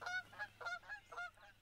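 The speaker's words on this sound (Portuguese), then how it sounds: "Gansos do Canadá!" Canada geese honk in a series of about six nasal calls in an uneven rhythm, moderately close and fairly quiet, with no voices present.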